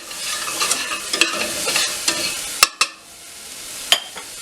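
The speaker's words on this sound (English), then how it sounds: "I usually get the onion started and then I add the garlic in and just cook that for 30 seconds" Chopped onion and garlic sautéing in a pan for a French Canadian tourtière, a steady bright sizzle broken by scraping stirs and a few sharp utensil knocks, close and loud.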